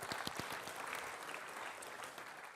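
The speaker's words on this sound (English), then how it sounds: "Gratuitous applause." Conference audience applauding after a talk demo, a few sharp near claps at the start giving way to a softer, spread-out patter of many hands that continues at moderate level.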